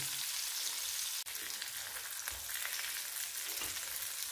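Stuffed bitter gourds fry in hot oil with onions and green chillies, giving a steady, close crackling sizzle with fine spitting pops and a brief break near the start, and no voices.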